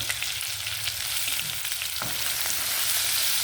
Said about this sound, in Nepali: अब यसमा हामीले टमाटर एड गर्छौँ।